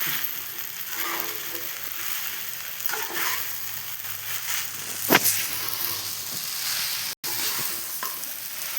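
Sabudana khichdi is stirred in a hot pan, a loud continuous sizzle with scraping from the spoon and a sharper clack partway through, close by and without talk.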